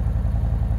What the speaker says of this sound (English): Nice loud startup and engine. I'm gonna let it heat up a little bit.